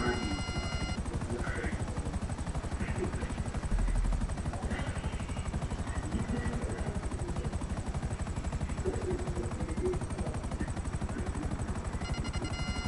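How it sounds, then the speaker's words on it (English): A video-game helicopter touches down indoors, its rotor chopping in a steady, fast, loud beat throughout, with faint game effects layered on top. "So you mean I just landed my helicopter inside this bitch?"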